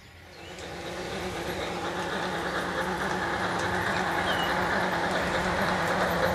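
A garden railway model train rumbles along steadily, its running noise rising at the start then holding a constant hum and clatter.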